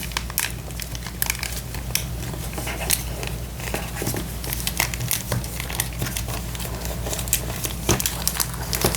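Glued paper origami box being folded and pressed closed by hand, giving a steady run of soft crinkling and crumpling paper close up, with no talk.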